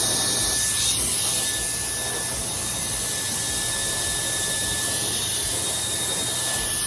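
A Slopehill hair dryer with a brushless motor runs steadily at high power, giving a continuous loud airy whoosh with a faint high whine that holds throughout, with no talking.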